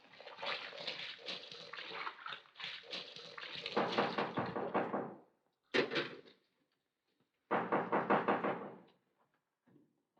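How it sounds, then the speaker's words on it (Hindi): Loud, rapid pounding on a door in a 1954 Hindi film comes in long, rattling bursts of dense blows separated by brief silences, with a short extra burst in between. "दरवाजा क्यों तोड़ रहा है?"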